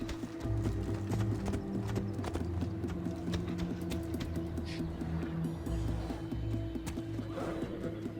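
Horse in the video game Assassin's Creed Odyssey: a steady run of clip-clopping hooves with game music underneath, moderately loud and continuous, with no clear whinny.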